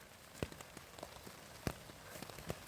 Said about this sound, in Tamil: மறுபடியும் மழை அதிகமாக வர ஆரம்பிச்சிருச்சுங்க.